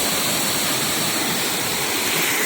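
A heavily swollen waterfall pours down at Radhanagari ghat in the monsoon rain, a loud, dense, unbroken roar of rushing water with no voices.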